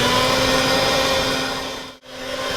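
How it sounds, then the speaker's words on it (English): An electric mixer creams sugar with butter and shortening for Christmas cookies, a steady close whir with a constant motor tone that cuts out briefly near the end before picking back up. "I'm going to go ahead and add my sugar in with my butter and shortening mixture, and we're going to cream this together"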